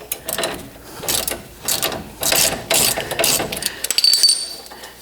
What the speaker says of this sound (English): I'm gonna use a wrench to hold the back of it, and I use my ratchet to take it off